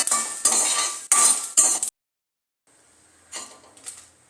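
Black pepper dry-roasts in a pan over low heat while a spoon stirs it, giving three close bursts of scraping and clinking. A silence follows, then a couple of fainter stirring scrapes.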